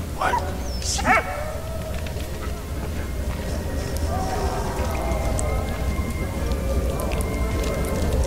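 A dog barking in Valiant Hearts: The Great War, a couple of sharp barks near the start over a steady background of rain and ambient noise that carries on through the rest.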